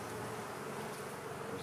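Honeybees buzzing during a hive inspection, a dense continuous drone filling the air close by without any voices.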